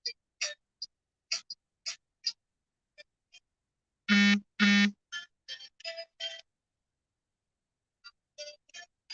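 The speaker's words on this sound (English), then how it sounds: "Is that my phone that was making that noise?" Two loud, harmonic electronic tones from a phone ringtone sound in quick succession amid scattered short clicks and ticks in an otherwise quiet room, with no talk during the rings.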